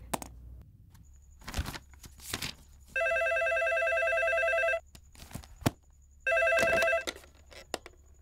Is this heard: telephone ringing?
yes